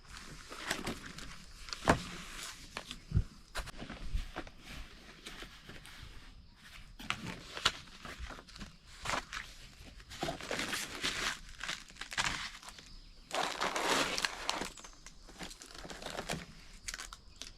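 A package of Suparee Hyper 5 off-road lights being opened by hand, with scattered rustling, crinkling and tearing of packaging, close and fairly quiet, in bursts with short pauses between.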